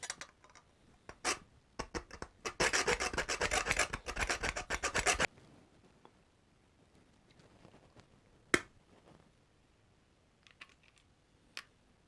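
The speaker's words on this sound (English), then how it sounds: "I'm going to take out this little washer from this bolt" A small washer is worked off a bolt on the disc brake adapter of an electric bike with a front hub motor, a dense burst of close metallic rasping and rubbing, then sparse clicks and taps in near quiet.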